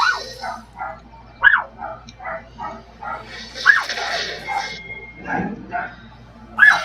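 A dog barks repeatedly nearby in short, sharp yips and woofs spaced about a second apart, with a brief whimper in between, over faint indoor background during a League of Legends gaming session.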